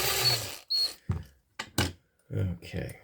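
A power drill with a small 1/8 bit bores into a Hot Wheels toy die-cast car, giving short loud whirring bursts with gaps between them and clunks of handling, close up.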